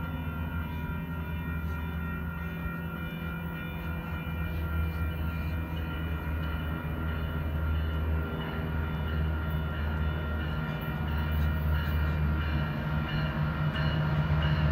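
A Metrolink commuter train, eastbound train 352 to San Bernardino, rumbles steadily with a deep low drone and metallic rail noise, building slightly louder toward the end as it pulls into Claremont station.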